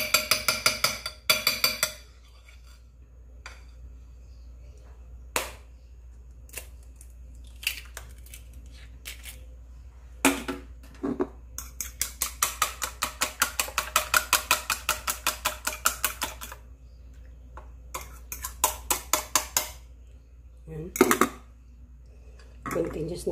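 An egg is stirred into an eggplant burger patty mixture in a bowl, with a spoon scraping and clinking against the sides in a fast, steady run of taps, broken by a few separate knocks and pauses.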